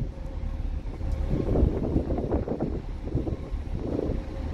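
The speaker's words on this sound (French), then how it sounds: "Il y a énormément de vent." Strong wind buffets the microphone on the deck of a ferry crossing from Greece to Italy, a loud, continuous rumbling roar with gusty surges and no speech.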